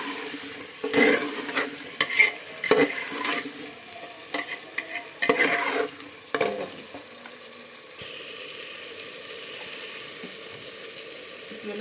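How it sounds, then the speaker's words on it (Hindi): Red chili and coriander spices are stirred and fried in a pan, with scraping spoon strokes and bursts of sizzle through the first half, then a steadier, softer frying hiss. "तो इतने ही मसाले को डालूंगी और उसको अच्छे से चला देंगे और फ्राई होने देंगे।"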